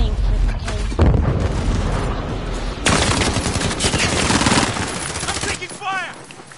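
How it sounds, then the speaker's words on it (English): Rapid bursts of gunfire fill a Warzone battle, with automatic weapons rattling in dense, overlapping volleys close by and heavy booms mixed in, while a player speaks over the shooting. "I'm taking fire!"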